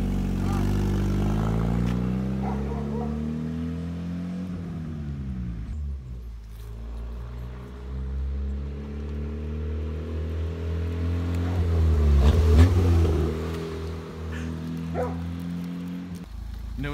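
A $500 Honda Civic with a new exhaust revs and accelerates, its engine note rising and falling in long sweeps, loud and close, with people talking over it.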